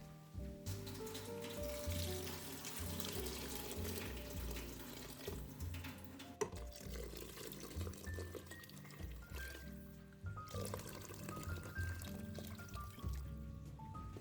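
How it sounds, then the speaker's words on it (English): Water poured into a cooking pot before Brussels sprouts are added, a soft, steady trickling and splashing that runs quietly under a faint tonal background. "we're going to start adding in some water"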